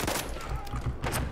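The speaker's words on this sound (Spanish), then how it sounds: "Oigo disparo, me están disparando." Dense, rapid bursts of gunfire from the World War I shooter Battlefield 1, several loud clustered shots with low thuds in a busy battle mix, a voice faintly present underneath.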